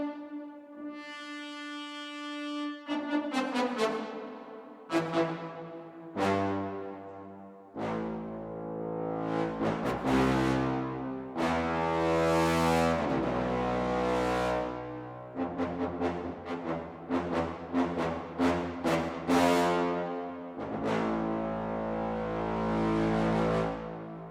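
A digital keyboard plays a loud brass patch, starting with a sustained chord and then moving into rich, swelling notes and runs, some held and some quick, heard alone without talk.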